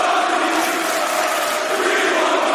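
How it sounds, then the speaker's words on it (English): Wrestling arena crowd chanting for Cody, a dense, loud, continuous roar of massed voices filling the space, steady throughout with no single voice standing out. "See, the crowd just chanting for Cody."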